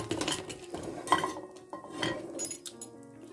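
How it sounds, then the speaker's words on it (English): Homemade chicken tikka pizza sliced with a cutter or knife on a tray: repeated clattering scrapes and metallic clinks in uneven bursts, close and fairly quiet, with no talking. "we cut it down and then across"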